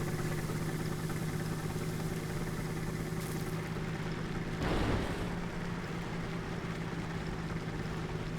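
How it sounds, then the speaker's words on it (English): A single jet engine on a vehicle in the sandbox game Trailmakers gives a steady, droning engine hum with a constant low tone, with a brief louder whoosh near the middle. "this engine's quite a lot slower when you only have one of them."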